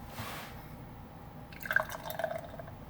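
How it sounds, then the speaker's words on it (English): High gravity lager sloshing and dripping into a ridged glass in short liquid bursts partway through, after a quieter start with a faint hiss. "I'm not even going to try to pour this, you know, respectfully, because it's a high gravity lager"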